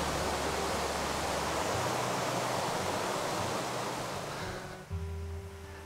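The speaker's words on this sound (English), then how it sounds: "And that's the noisy river." A noisy river in Lampang, Northern Thailand, rushes with a dense, loud broadband roar that fades slightly near the end, with no voices.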